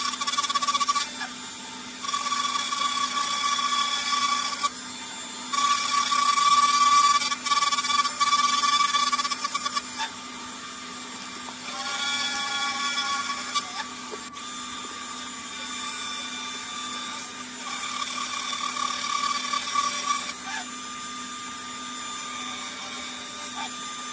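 A metal lathe turns a part for a mechanical door lock down to diameter, producing a steady motor hum with a sustained cutting whine that starts and stops in sections at close range.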